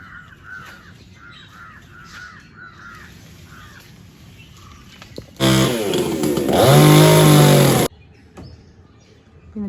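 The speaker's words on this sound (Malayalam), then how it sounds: "തെങ്ങ് കട്ട് ചെയ്തുകൊണ്ടിരിക്കുന്നത്" A chainsaw cutting down a coconut palm roars loud and close for a couple of seconds, preceded by crows cawing repeatedly nearby and other birds chirping.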